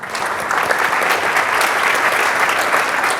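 Sustained audience applause fills a conference hall at the Iceland Travel Tech 2022 event, dense and steady from start to finish with a faint murmur of the crowd.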